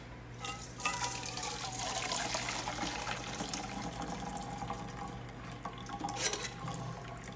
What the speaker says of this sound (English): I need the water for the rice, and I am going to strain it.